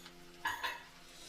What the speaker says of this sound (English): and then we stir it again